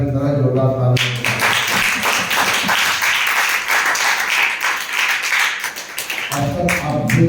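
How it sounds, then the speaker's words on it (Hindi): Students in a maths class clap loudly in a dense, rapid burst lasting several seconds, framed by a teacher speaking before and after. "क्लास की शुरुआत हमेशा की तरह जोरदार तालियों से"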